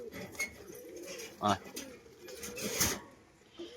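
Pigeons cooing softly in a few low, brief bursts, faint and close, with some background rustling and a voice now and then.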